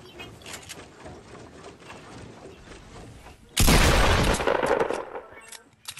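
Gunfire in Fortnite arrives as a sudden loud burst of rapid shots after a stretch of quieter game noise, then fades out.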